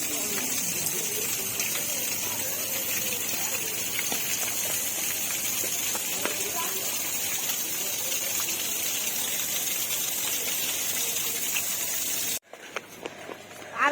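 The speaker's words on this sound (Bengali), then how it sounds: "এটা হচ্ছে ঝর্ণা।" Park fountain pouring and splashing as a steady rushing wash of water, loud and continuous, cutting off abruptly near the end to leave quieter surroundings.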